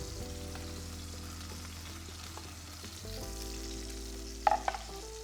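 Chopped green onions sizzle steadily in a pan, a continuous close frying hiss with a steady hum underneath and a couple of brief clinks near the end.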